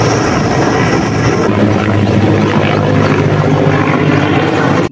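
An Air Force helicopter fighting a forest fire in the East Sundarbans, Chandpai range, produces a loud, continuous rotor and engine roar with steady low thumping that fills the whole stretch before cutting off abruptly.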